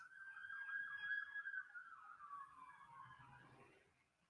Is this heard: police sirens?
yes